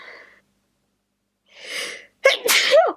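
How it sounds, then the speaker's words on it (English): A single loud sneeze, preceded by a short breathy inhale and a brief vocal sound, close to the microphone with silence in between. "I'm gonna sneeze."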